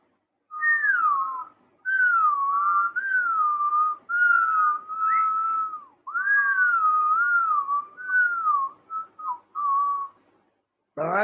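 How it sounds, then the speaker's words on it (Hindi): A whistle sounded in reverse by drawing breath in through it as a breathing exercise: a long series of wavering, close whistle tones in separate breaths of one to two seconds each, with short pauses between, and no speech. "और फिर सीटी को उल्टा बजाओ"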